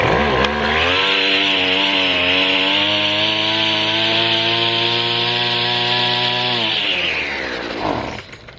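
A chainsaw runs hard and steady at high revs for about seven seconds, loud and close with a buzzy engine drone and a grinding cut, then winds down near the end.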